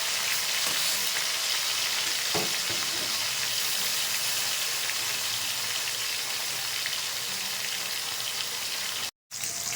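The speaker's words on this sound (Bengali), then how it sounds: "মাছগুলো ভাজা হয়ে গেছে" Katla fish pieces fry in mustard oil in a hot kadai, giving a dense, even sizzle that runs close and loud throughout, with one faint utensil knock and a brief cutout near the end.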